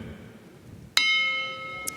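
A boxing ring bell in a Tokyo, Japan bout between Takuma Inoue and Jake Bornea strikes once sharply and rings on, then a second quick ding follows under low arena murmur.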